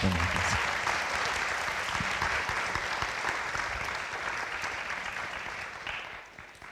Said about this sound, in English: Can give a round of applause.